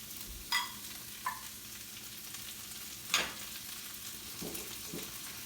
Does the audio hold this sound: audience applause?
no